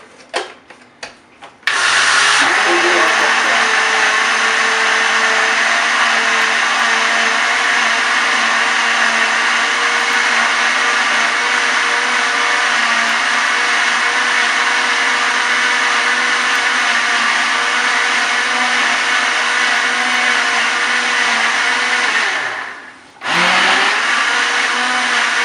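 A blender whirs loudly and steadily for about twenty seconds while mixing a homemade juice blend, with no other sounds over it. It starts abruptly after a short pause, briefly dips near the end, then stops.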